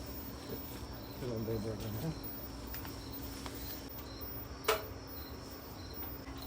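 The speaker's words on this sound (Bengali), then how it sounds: "ঝিঝি ফোকা ডাকতেছে" Crickets chirp in a steady pulsing rhythm at night in a garden, joined by a buzzing insect and a brief sharp knock, with faint voices in the background.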